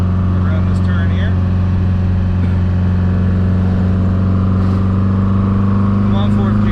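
Engine of a Porsche 914 with a faulty shifter coupling, a steady loud near drone held through gear changes with little rise or fall, while someone talks over it.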